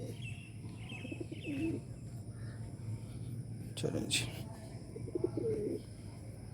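Pigeons coo in low, throaty rolls alongside scattered bird chirps, with a voice speaking briefly over the steady background.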